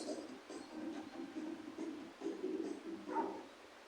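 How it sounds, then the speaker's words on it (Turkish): A dog barks in a quick series of short, muffled yaps and whimpers, fairly distant and faint over a low background hiss. "Havlama havlama."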